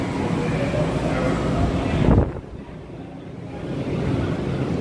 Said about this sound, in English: This is the metro north right here.